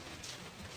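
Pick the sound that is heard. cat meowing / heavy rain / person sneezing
heavy rain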